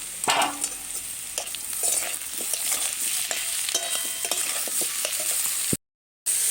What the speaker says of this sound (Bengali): শুধু এইটুকু ভাজলে হবে জিরে আর আদাটা